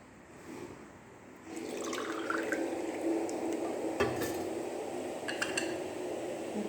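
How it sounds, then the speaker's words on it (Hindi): Milk poured into a pot for semolina halwa, a steady liquid splash that starts after a quiet moment and runs on, with light clinks of metal pots and utensils. "तो ये 2 कप जाएंगे दूध इसमें।"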